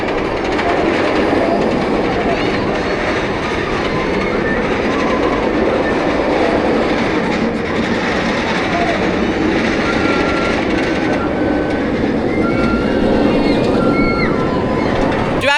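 Dragon Khan, a Bolliger & Mabillard roller coaster at PortAventura, gives a loud, continuous rushing roar of the train on its track, with rattling wheels, steady from start to finish.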